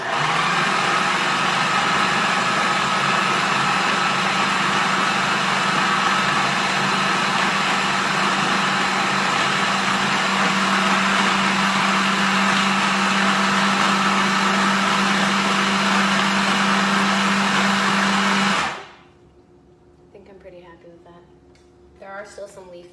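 A countertop blender whirs loudly and steadily for about eighteen seconds, blending pesto made with leafy greens, then cuts off abruptly, leaving quiet room sounds and faint clatter.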